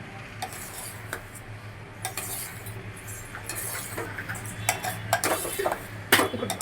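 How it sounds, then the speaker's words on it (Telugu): Boondi laddu mixture with cardamom powder being mixed by hand in a pot, giving soft intermittent scraping and light clinks at close range, growing busier toward the end, with no talking. "మొత్తం కలిపేసి బాగా మిక్స్ చేసేసుకోవాలి."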